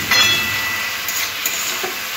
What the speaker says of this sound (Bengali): নুন দিয়ে সবজিটা একটু ভাজতে হবে।